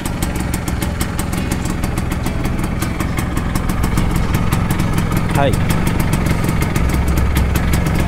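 Vespa ET3 two-stroke scooter idling while warming up, a steady close, rapid putter with a faint metallic clatter throughout; someone speaks briefly at the start.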